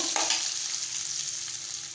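Green chillies and spice masala sautéing in a pan for a wedding-style non-veg curry, a steady close sizzle and fry hiss with soft stirring scrapes running throughout.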